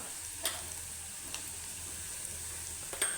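Jackfruit sabji with salt, turmeric and red Kolhapuri masala stir-frying in a pan, a faint steady sizzle broken by a few soft clicks of the spoon stirring.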